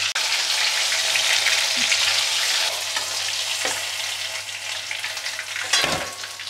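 Homemade crispy fish fingers fry in hot oil, a continuous, close, bubbling sizzle with occasional soft shifts as pieces are moved.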